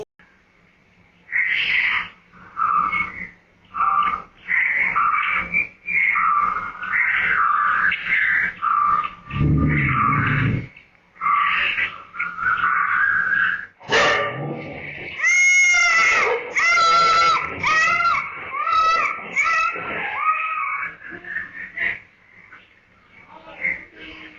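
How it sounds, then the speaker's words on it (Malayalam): A pack of six stray dogs in Malappuram attacks a seven-year-old boy, barking and growling loudly in rapid, choppy bursts close by, with high yelps and frantic cries near the end. "ഏഴു വയസ്സുകാരന് നേരെ പാഞ്ഞെടുത്തത് ആറ് നായ്ക്കൾ"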